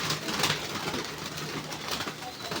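Hungry pigeons coo in soft, low repeated calls close by as they wait to be fed, with a person talking over them and a faint rustle of movement.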